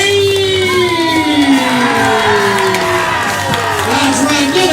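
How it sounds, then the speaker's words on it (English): Crowd at a live main event cheering, whooping and clapping as players are called to the stage, loud and sustained with shouts rising over the applause. "let's keep those applause going"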